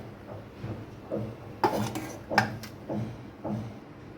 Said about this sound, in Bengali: চিনির শিরার মধ্যে আমি বড়াগুলোকে দিয়ে দিচ্ছি।